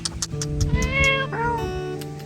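A cat meows nearby, one drawn-out meow followed by a shorter one, with faint clicks and rustling in the background.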